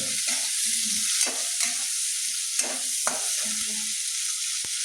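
Brinjal hits a hot pan with a loud, bright sizzle that stays broad and continuous, broken by scraping stir strokes and a couple of sharp clicks; a faint voice murmurs underneath.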